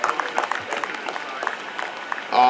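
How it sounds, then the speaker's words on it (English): Audience applause for the panelists at a Ghana Cinema Week dialogue on diversity in cinema, a brisk patter of clapping from a hall crowd that holds steady to the end. "please, let's give them a round of applause"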